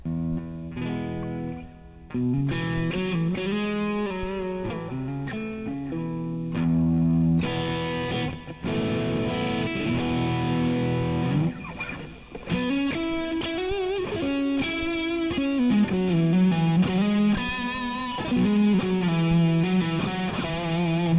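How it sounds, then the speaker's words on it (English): Sustained, effects-heavy electric guitar notes through a Strymon Cloudburst ambient reverb pedal wash into one another with long ambient reverb tails, playing continuously at a steady, fairly loud level. "Check out some of the Strymon Cloudburst ambient reverb demos"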